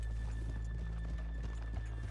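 Horse hooves clip-clop in a steady rhythmic gait in the video game Red Dead Redemption 2, over a constant low engine-like hum and a faint steady tone.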